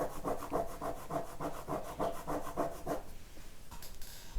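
Coin rubbed back and forth over a colored pencil drawing to smooth it, a soft rhythmic scraping of about a dozen quick strokes at close range, then a pause and a brief rustle.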